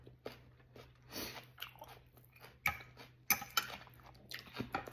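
Crunchy raw celery being bitten and chewed close up, with sharp crisp bites and wet crunching in irregular bursts, with no talk.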